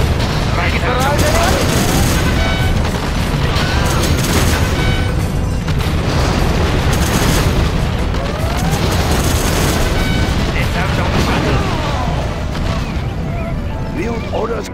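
A rocket barrage pounding targets in Command and Conquer Generals Zero Hour, with loud, sustained overlapping blasts, booms and rattling gunfire, mixed with in-game voice lines and speech.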